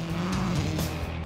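A rally race car driving hard, its engine note rising and falling with tire squeal and skidding, heard briefly and at moderate distance.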